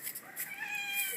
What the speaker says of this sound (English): this is my red kitten, Scott